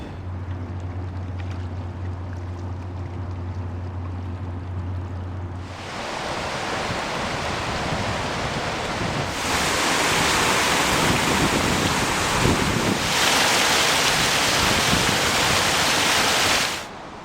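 The broad Columbia River flows nearby, a loud steady wash of rushing water that swells partway through and continues without voices.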